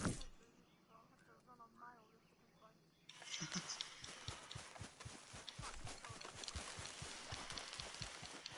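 Video game horse hooves gallop in a fast, steady rhythm while dragging something, after a quieter opening with faint speech, continuing loud and close to the end.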